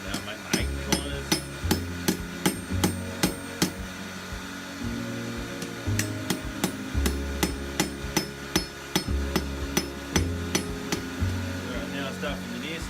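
Hot steel hammered on an anvil while forging the corners of a leaf bottle opener, a steady series of sharp, ringing hammer blows close by, some in quick pairs, over low background hum.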